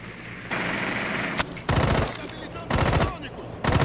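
Automatic gunfire in Rainbow Six Siege comes in several loud, sustained bursts separated by short pauses, with a sharp single crack between them.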